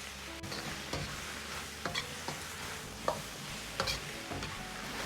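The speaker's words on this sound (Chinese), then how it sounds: "下入酸菜煸炒" Pickled mustard greens are stir-fried in a wok, with a steady background sizzle and repeated scraping, tossing strokes at irregular intervals, heard up close and alone.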